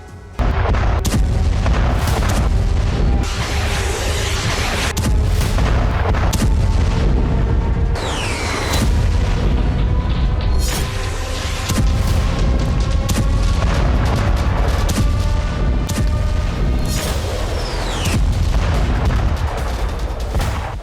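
Bombardment in Gaza produces loud, repeated booms and explosions that rumble one after another over a dense, continuous background.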